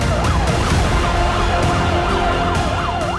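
An ambulance siren wails loudly and close, its pitch sweeping up and down in a fast repeating cycle over a steady rumble of traffic, with no talking.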